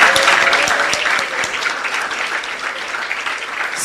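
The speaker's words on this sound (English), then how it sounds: "Clap yourself again." Audience at a symposium applauding loudly, a dense, steady burst of many hands clapping from start to finish with no speech over it.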